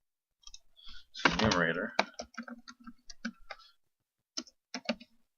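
Computer keyboard typing, a few quick clicks then a short run of light keystrokes and a couple of final taps, close and clear, with a brief spoken phrase at the start.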